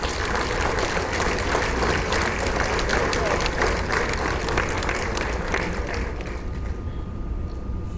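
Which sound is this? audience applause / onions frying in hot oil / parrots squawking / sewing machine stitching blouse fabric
audience applause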